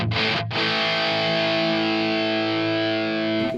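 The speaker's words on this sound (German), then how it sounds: "Jetzt können wir mal gucken, den Twin Tracker zu aktivieren." Distorted electric guitar through a Two Notes Torpedo Captor X with the Twin Tracker effect switched on: a brief pick attack, then one loud sustained chord ringing out alone for about three seconds.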